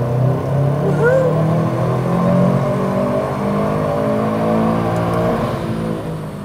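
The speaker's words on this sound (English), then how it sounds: "I'm gonna get the car up to speed and we'll do another pull." A tuned car accelerates hard through a power pull, its engine note rising steadily in pitch as it climbs through the revs, loud and continuous with a whirring layer on top and no speech.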